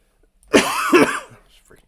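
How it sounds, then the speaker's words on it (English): One person gives a short, harsh double cough, two quick hoarse bursts close to the microphone, followed by silence. "Freaking cough"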